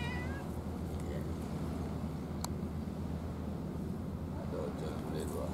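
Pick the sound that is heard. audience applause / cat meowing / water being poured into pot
cat meowing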